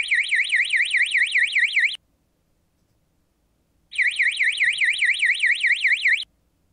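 A signal indicator alarm connected to an Optris Xi 410 thermal camera sounds in two loud warbling bursts, each about two seconds long, separated by a gap of silence, with no other sound around it.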